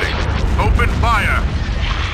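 Space battle weapons fire in Star Wars: Empire at War, a dense wash of booming blasts and whooshing energy shots under a short spoken unit line.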